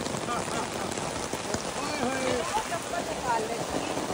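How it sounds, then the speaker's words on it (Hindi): Heavy rain falls in the Maldives, a dense, steady patter and wash of drops on surfaces close by, with people talking over it throughout. "बारिश हो गई है बहुत तेज"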